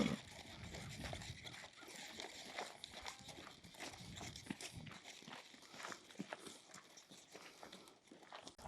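Horse hooves clip-clop steadily at a walking pace on a trail ride around a horse shelter, a fairly quiet, rhythmic series of soft hoof falls with outdoor background noise.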